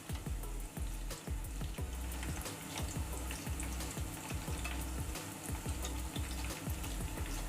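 Omapodi, besan sev, frying in hot oil over a low flame, a steady dense sizzle and bubbling with repeated light taps and scrapes of a slotted ladle, close and continuous.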